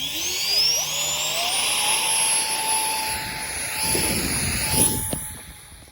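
A 3D-printed RC jet called the Vertigo flies on its first flight, its high whine sweeping upward and then holding steady, fairly near, with wind rush swelling as it passes.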